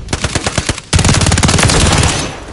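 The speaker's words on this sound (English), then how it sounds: "Contact! I'm taking fire." Incoming automatic gunfire in a shooter game, a loud rapid burst of close shots, a brief gap, then a heavier sustained stream of fire that trails off.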